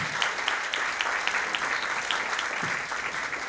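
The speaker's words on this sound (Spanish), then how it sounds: "Un fuerte aplauso para la licenciada." A seated conference audience gives steady applause for a guest speaker, dense even clapping at moderate distance with no talking over it.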